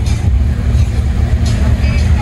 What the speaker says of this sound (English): We got the Veyron rolling right now.